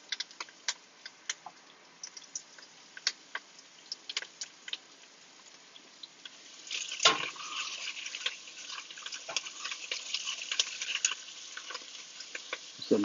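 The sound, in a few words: peppers and garlic sizzling in pan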